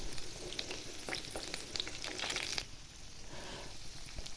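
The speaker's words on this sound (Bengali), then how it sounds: "এই যে দেখুন এক এক করে সবগুলো ভেজে নিব এখন আমি।" Decorative pitha cakes fry in oil, producing a soft, fairly faint bubbling sizzle with crackly pops that eases off toward the end.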